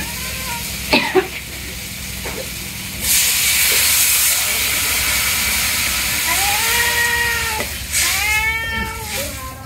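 Broth poured into a hot pan of sautéed vegetables and spices bursts into a loud, sustained steamy hiss lasting several seconds, after a few clinks and with voices talking over it.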